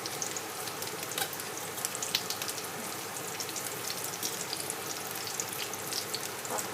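Shrimp gyoza fry in hot oil in a pan until crisp and golden, a continuous close sizzle with scattered crackling pops and no talking.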